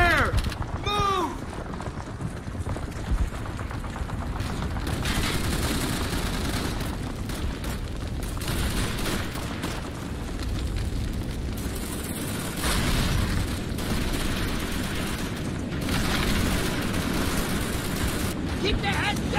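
A loud, dense battle from the Xbox 360 game Call of Duty 3: booming explosions and rumbling gunfire fill the scene continuously, with shouted voices mixed in.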